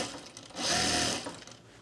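A sewing machine stitches a men's tropical shirt, making one short, close whirring run that swells and fades over about a second.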